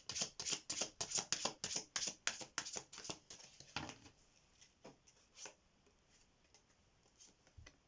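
Tarot message cards are shuffled in a rapid riffling run of crisp snaps for about four seconds, then slowing to a few scattered soft taps and card slides, with no talking.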